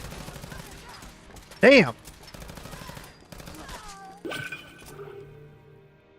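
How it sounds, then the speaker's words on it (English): Automated turrets in a video game fire bursts of rapid shots mixed with metallic clinks and electronic effects, loud and close. A streamer exclaims briefly partway through. "Let's let the turrets do their thing."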